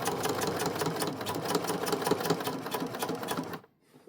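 A sewing machine back stitches fabric for a small lip balm holder, running in a rapid, close, steady mechanical chatter for about three and a half seconds and then stopping abruptly.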